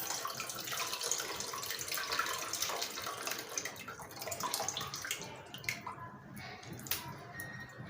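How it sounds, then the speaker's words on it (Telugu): Water pours steadily into a pot while pachi pulusu, a raw tamarind stew, is prepared, a continuous splashing wash that thins and ends in a few faint drips and clinks. "మళ్ళీ కొన్ని వాటర్ వేసుకొని మీకు ఎంత కావాలో చూసుకొని అంత వేసుకోండి"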